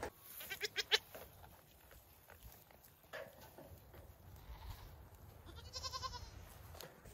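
Nigerian Dwarf goats at hay in winter, with a run of sharp bleats near the start, muffled rustling and munching in between, and another drawn-out bleat later, all fairly close and quiet.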